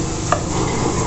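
Kashmiri chilli powder is stirred into a sizzling masala for squid roast, producing a short burst of close frying hiss with a single spoon scrape near the start.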